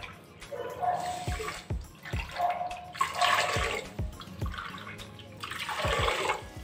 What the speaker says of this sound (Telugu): అలాగే వాటర్ కూడా పోసుకుందాం.